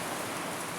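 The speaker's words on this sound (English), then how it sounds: "Please excuse the rain." Steady rain falls outdoors during a ritual, a dense, even hiss of drops with no break across the short moment, close and fairly loud, with nobody speaking.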